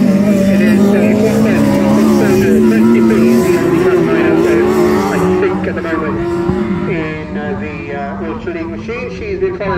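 Autograss race cars from Class 9, Class 10 and F600 in qualifying on a grass track, engines droning and revving steadily at moderate distance beneath continuous commentator speech.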